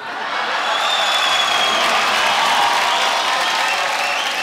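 Sustained applause from a stage show audience, a dense, steady wash of many hands clapping at even loudness from start to finish with no pauses.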